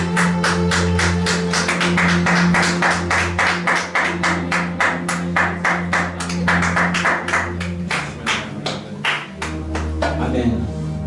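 A church congregation claps in a fast, rhythmic unison beat during a Pentecost Sunday service, with voices chanting over the clapping, which stops near the end.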